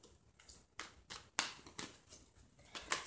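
Tarot card deck being shuffled by hand, a series of brisk riffling and flicking bursts at irregular intervals, close and moderately loud, with no talking.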